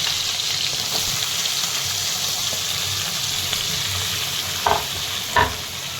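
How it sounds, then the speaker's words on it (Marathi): Finely chopped garlic and curry leaves fry in hot oil with a broad, steady sizzle that lasts the whole time. Two sharp knocks of a spoon or spatula against the pan sound near the end. "भरपूर सारा लसूण बारीक करून घेतलेला लसूण कढीपत्ता ते पण छान तेलामध्ये परतून घेत आहे"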